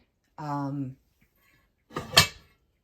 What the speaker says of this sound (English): They're cast iron Dutch ovens, which with an enamel coating.